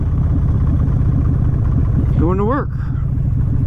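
A motorcycle engine idles and rumbles up close in a steady low pulse while the rider parks at work, with someone speaking briefly over it partway through.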